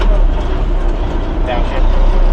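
A farm truck's engine drones steadily as the driver downshifts, a loud, continuous low rumble of a heavy road vehicle close by, with a person talking over it.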